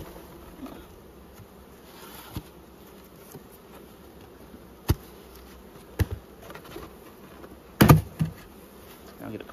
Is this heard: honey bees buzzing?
yes